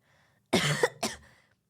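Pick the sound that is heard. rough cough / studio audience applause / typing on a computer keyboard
rough cough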